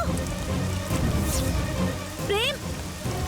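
Water poured down onto people in a Hindi TV drama scene, a continuous rain-like hiss and patter filling the background, with a brief voice cutting through.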